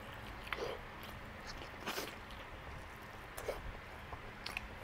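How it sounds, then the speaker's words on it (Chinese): Someone bites into and chews American charcoal-grilled BBQ pork ribs glazed in sauce, giving a few soft, moist chewing and biting sounds at close range against quiet background hiss. "那我就开吃喽，先从肋排吃起"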